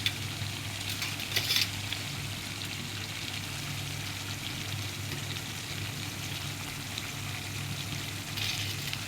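Mutton sukka fries in a pan with a steady, close sizzle throughout, and brief bursts of stirring and scraping near the start and again near the end.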